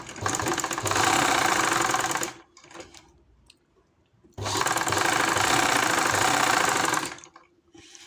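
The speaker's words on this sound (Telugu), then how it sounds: "సో ఇప్పుడు స్ట్రైట్గా ఒక కుట్టేయండి" Electric sewing machine stitching a straight side seam on a frock, two loud sustained runs of rapid whirring stitching separated by a short pause with a brief restart at the end.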